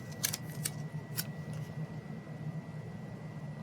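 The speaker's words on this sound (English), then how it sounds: "And again, cutting from the bottom." Scissors snip through paper for a reading journal, a few quick close crisp cuts in a row against a quiet indoor background, with no talking.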